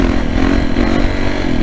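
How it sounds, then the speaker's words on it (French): Yamaha 450 YZF dirt bike engine braking off-road, a steady close, loud four-stroke drone with a rough, pulsing low burble throughout and no clear rise in revs. "C'est vrai que là, il y a du frein moteur."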